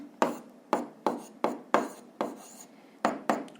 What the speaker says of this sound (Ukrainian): а зараз записуємо власне відповідь